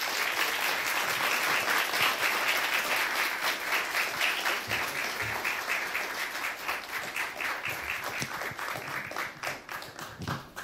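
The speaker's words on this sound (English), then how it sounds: "in welcoming the Mr. Blinken with a warm round of applause" Warm, sustained applause from an audience welcoming a speaker at a lecture, dense and close, gradually thinning toward the end with a few individual claps standing out.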